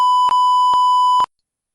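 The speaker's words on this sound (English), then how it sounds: "I had to use the beep button for the first time in a while" A single steady electronic censor beep tone, loud and sustained for about a second, then silence.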